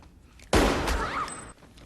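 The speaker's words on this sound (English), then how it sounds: "Cotton shoots Mrs. Loomis and then gets the scare of his life from Gail, who despite a gunshot wound is still alive" Gunfire from a scene in the horror film Scream 2: a single loud, sudden burst that rings on with a dense blast and echo for about a second before dropping away.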